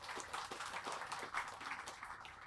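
An audience at an outdoor government program launch in Ubud, Bali, applauds the attending guests, with a steady, distant wash of many hands clapping that stays soft and continuous throughout.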